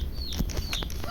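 Chicks peep in a few short, high chirps in a room where people are warming up by a coal stove, faint against a steady low hum.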